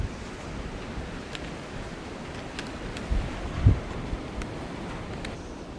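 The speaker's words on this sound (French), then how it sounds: "Et même en étant à l'abri, il y a quand même pas mal de vent." Steady wind noise on the Scottish coast, a broad continuous rush buffeting the microphone, with a few brief thumps and gusts and faint high ticks over it.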